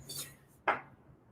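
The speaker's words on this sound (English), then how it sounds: "I am just chopping up some sweet potato here" A knife cuts through sweet potato on a kitchen board, giving one faint, dull chop after a light clink of utensils, quiet and close with no talking.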